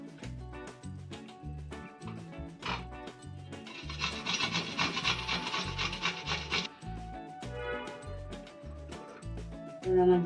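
Cucumber with the seeds removed, grated by hand, heard as rhythmic back-and-forth rasping strokes, close and steady, with a denser run of quick scraping in the middle.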